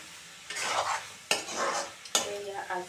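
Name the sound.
stirring broccoli with vegetable masala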